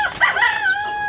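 A rooster crows once, close and loud, a short harmonic call rising and then holding steady.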